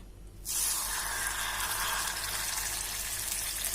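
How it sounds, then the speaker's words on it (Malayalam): Pearl spot fish dropped into hot coconut oil for a Kerala-style fry: after a brief quiet moment a sudden loud, broad hissing sizzle bursts up and holds steady, close and without talking. "ഇനി ഇതിനകത്തേക്ക് മീൻ ഞാൻ ഇട്ട് കൊടുക്കുകയാണ്."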